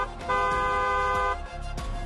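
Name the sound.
car horn honking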